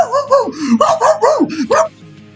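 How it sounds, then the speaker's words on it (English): A dog barks and yips loudly nearby in a rapid series of about eight high-pitched barks, then falls quiet. "You're probably gonna hear the dog barking in the background."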